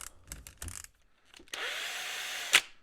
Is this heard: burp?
no